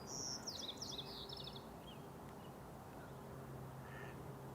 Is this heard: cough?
no